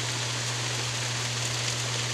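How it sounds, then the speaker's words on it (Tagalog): Steady rain falls in a continuous, even hiss, with a low constant hum underneath and no voices. "Umuulan na naman."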